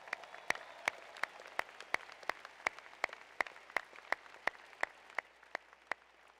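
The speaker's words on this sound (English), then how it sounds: "Now, please applaud for these folks." An audience applauds at a 2018 Smith School of Business graduation ceremony, a dense, steady wash of many hands clapping, with one nearby pair of hands striking loud, sharp claps at an even, quick rhythm throughout.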